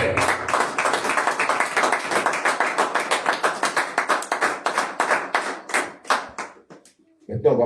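A congregation claps in fast, steady rhythm for about seven seconds during a French church service acclaiming Jesus, with voices shouting under the clapping before it breaks off near the end.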